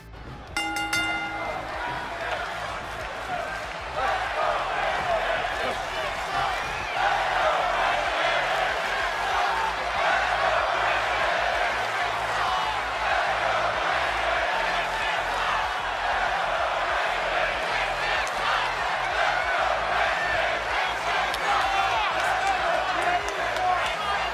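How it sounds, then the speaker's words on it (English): Arena crowd in the wrestling video game WWE 2K22 chanting for Christian during a match, a sustained roaring chant with rhythmic swells and scattered claps, loud and continuous throughout. "the crowd will say, Let's go Christian during the match"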